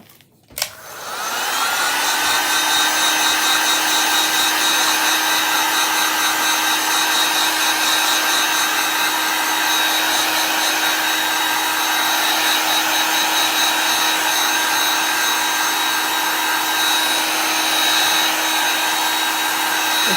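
A hair dryer switched on over a chalk paste design, starting with a brief click and then a loud, close, steady blowing roar with a motor whine that holds unbroken.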